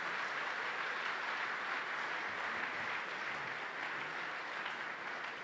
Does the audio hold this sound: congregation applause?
yes